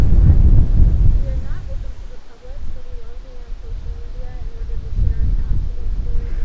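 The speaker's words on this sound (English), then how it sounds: "You can hear that wind blowing in the background." Gusty wind at a wildcat sanctuary rumbles heavily against the microphone, rising and falling, with a faint thin tone in between gusts.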